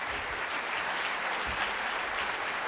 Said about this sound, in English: Help me clapping Judith.